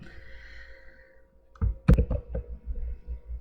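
Computer mouse clicks while setting up Google Calendar: a few sharp, close clicks in quick succession after a quiet stretch, with faint handling noise around them.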